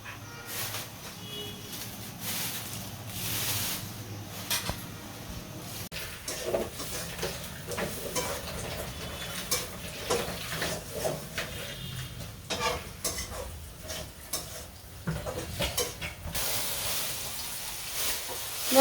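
Greens stir-fried in a pan make a low, steady sizzle broken by light scraping and clinks of a utensil against the pan, with no talk heard.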